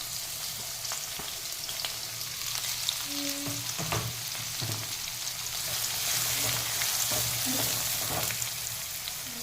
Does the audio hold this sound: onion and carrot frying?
yes